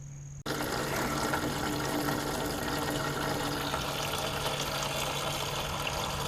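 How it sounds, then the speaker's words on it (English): Radiator coolant pours from a 1991 NA Miata 1.6L into a drain pan, a sudden, steady, loud splashing stream that begins after a brief quiet moment and continues without a break. "I'm going to unscrew this and let the rest of the radiator fluid come out."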